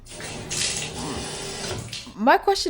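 Water runs steadily from a tap in a newly built house under inspection, a hissing flow through most of the clip, followed at the end by a person speaking over it.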